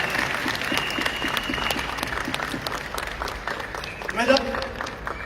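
Seminar audience applauding, a steady wash of clapping from a crowd in a hall, continuous and moderately loud with a brief swell near the end, a voice faintly audible underneath.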